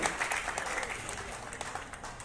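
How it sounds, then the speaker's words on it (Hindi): An audience at a qawwali program in Khwajaji's honour applauds producer Bobby Khan, a steady dense wash of many hands clapping that runs unbroken and fairly even throughout. "आप सभी से निवेदन जोरदार तालियों के साथ अभिवादन करें।"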